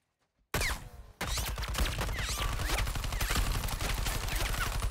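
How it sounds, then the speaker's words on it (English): Gunfire rattles in Suicide Squad: Kill The Justice League, kicking in abruptly after near silence, pausing briefly, then becoming a continuous loud barrage of rapid shots mixed with chaotic combat effects. "we're just gonna shoot at the Flash right now?"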